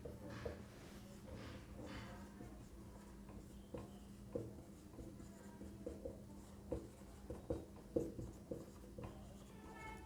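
Chalk or marker scratches and taps against a classroom board during a Hindi literature lesson, faint, irregular strokes with a cluster of sharper taps toward the end, no talking.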